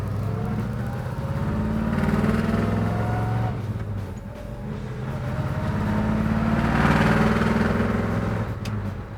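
A 1970 Chevrolet Chevelle SS454 muscle car engine rumbles steadily, rising and falling slightly in pitch as if being revved lightly, with no voices.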